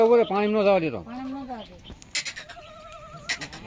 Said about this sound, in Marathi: ऑफ क्वालिटी पिल्लावाल्या काठेवाडी शेळ्या आहे बघू शकता